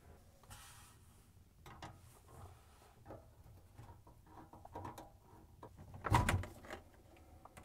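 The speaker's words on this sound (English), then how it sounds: "Slowly pull out the dishwasher." A Whirlpool dishwasher slowly pulled out from its cabinet: faint scraping and sliding with scattered soft knocks and rattles, ending in a louder thump near the end, no talking.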